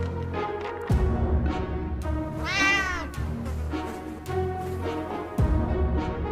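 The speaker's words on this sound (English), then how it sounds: "That was a loud meow." A loud, drawn-out cat meow in the video game 60 Seconds rises and falls in pitch, set against a rumbling game soundtrack with low thuds.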